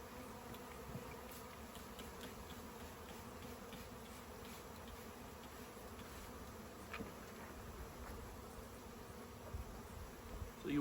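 A honeybee swarm clusters around a tree, producing a faint, continuous, even buzzing hum from many bees at a distance, steady throughout with no talk.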